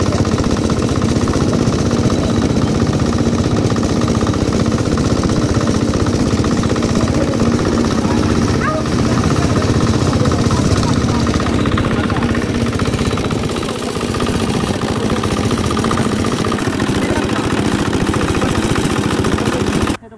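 Steady boat engine chugging on a river near a bridge, a loud continuous low drone with rhythmic knocking that runs the whole time.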